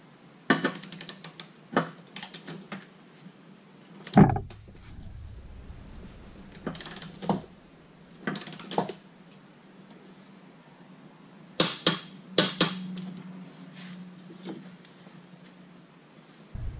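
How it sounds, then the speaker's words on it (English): A torque wrench tightening riding mower blades on a BX mid-mount mower gives scattered metallic clicks and clacks, spaced irregularly with quiet gaps, close and moderately loud, no talking. "I'm going to use a torque wrench to torque them to spec"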